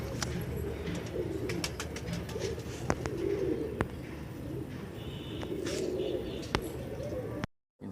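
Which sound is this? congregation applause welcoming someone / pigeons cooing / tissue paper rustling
pigeons cooing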